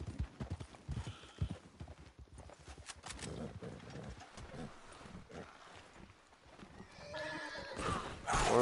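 A horse in Red Dead Redemption 2 clip-clops along at a steady gait and neighs, with wind and game ambience around it and a loud swell near the end; a voice speaks faintly at points.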